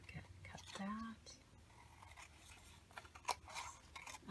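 Scissors snip through saved packaging in a quiet room. The cuts are faint and sparse, with a soft whispered voice and rustling around them.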